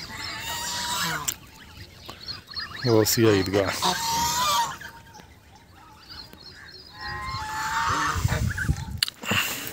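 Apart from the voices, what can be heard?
ducks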